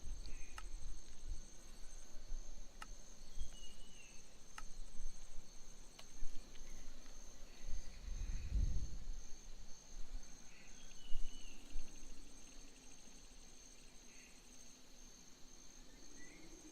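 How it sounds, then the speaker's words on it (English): Spring peeper frogs call at night with faint, sparse high peeps set against a steady shrill insect chorus and occasional sharp clicks, with no voices. "There's a peeper."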